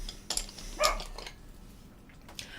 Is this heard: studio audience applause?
no